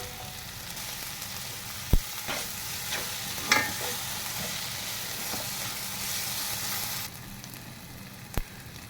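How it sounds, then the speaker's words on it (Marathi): Tomatoes frying in a pan for paneer bhurji give an even, close sizzle for several seconds, broken by a few sharp clicks of a utensil, then the sizzle drops to a quieter hiss. "साधारण 1-2-4 मिनटासाठी टोमॅटो आपला भाजत आला."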